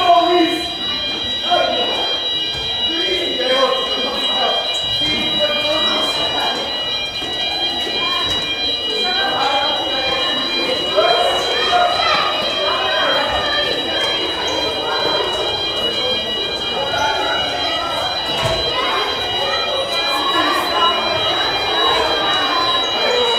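A school fire alarm sounds steadily through an evacuation during a fire drill, a loud continuous electronic tone over crowd noise and talk from people moving out of the building.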